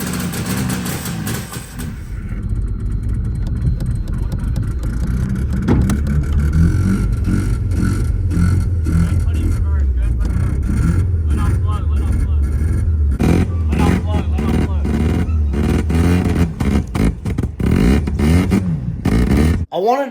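A 1985 Mazda RX-7 rotary engine runs rough after a long dormancy because of a vacuum leak, a loud, uneven, close idle that surges and stumbles throughout, with people talking over it.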